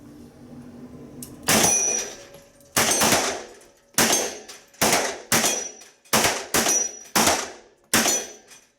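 Pistol fire at a shooting competition: about nine crisp, loud shots ring out close by in an uneven rhythm, each one followed by a brief ringing decay.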